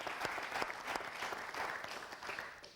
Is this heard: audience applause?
yes